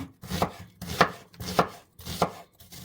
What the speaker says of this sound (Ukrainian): Цибульку можна нарізати напівкільцями або четвертинками.